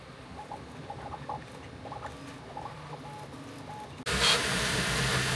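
Two 3D printers, an Elegoo Centauri Carbon and a Bambu Lab A1, are printing. Faint, close stepper-motor chirps and soft ticking give way to a louder, steady whirring hiss near the end.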